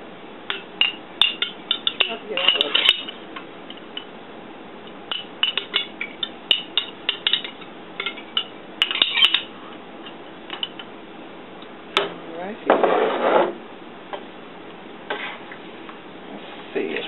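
A spoon stirs turkey chili with jarred sauce in a pot: irregular clinks and scrapes against the pot, some close bursts of scraping, spaced by quieter gaps.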